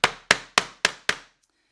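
Five sharp hammer blows drive a nail into wood at a steady, even rhythm, each strike ringing and decaying before the next, close and fairly loud, with no talk.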